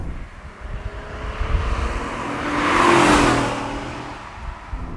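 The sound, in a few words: Honda NSX engine whirring heard from inside the car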